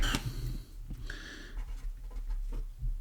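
Writing on a board during a maths lesson: a few short scratchy strokes and taps close to the microphone over a low room hum, with no talking.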